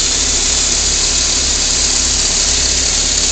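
A 1993 Ford Tempo engine idles steadily up close, a loud, even mechanical hum and whir with no talk over it.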